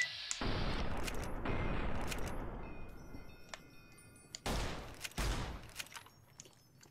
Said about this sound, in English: He has a gun that goes a clicky click.